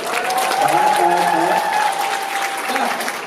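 Audience applause at a KVN comedy show, a dense, steady wash of clapping from a large crowd lasting the whole stretch at full strength.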